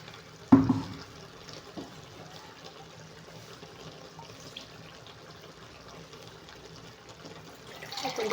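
Water poured into a pan of coconut milk curry with vegetables, a soft trickling pour heard close up after a brief clatter at the start, fairly quiet and without speech.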